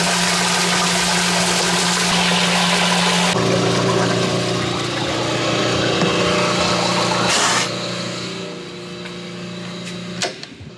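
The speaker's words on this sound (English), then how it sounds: "Got a big mixer in there." A big industrial mixer churning chemicals hums and whirs loudly and steadily, its pitch shifting as it changes speed partway through, then it drops quieter near the end with a brief clank.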